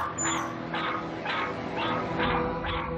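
A second household dog barks repeatedly at a woman intruder walking through the home, six evenly spaced sharp barks at roughly half-second intervals, close and fairly loud over a low indoor hum.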